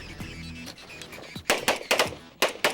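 Sharp pistol shots crack in quick bursts during a USPSA Limited Nationals stage, a few fainter shots early then loud rapid double and triple taps close by.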